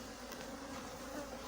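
Honeybees buzzing during a swarm capture, a faint continuous insect hum that stays steady for a moment without any voices.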